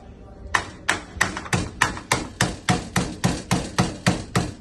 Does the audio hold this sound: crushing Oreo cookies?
yes